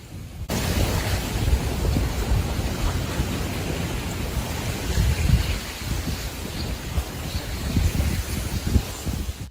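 Ice floes moving down a river, heard as a steady wash of grinding, hissing and crunching that continues without a break. It is fairly loud and close, with no voices over it.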